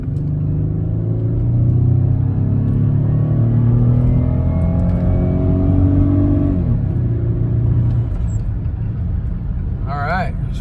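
A Buick Lucerne's 3.8L GM V6 revs at wide open throttle, a loud, steady droning roar with rising engine harmonics that climbs, then drops off as the revs fall, with a brief voice near the end.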